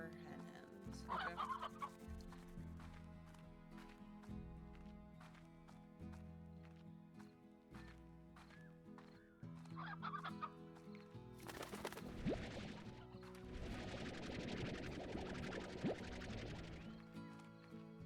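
Hen hens in the Slime Rancher video game cluck repeatedly over game music, a busy patter of clucks and squawks that grows denser and louder toward the end.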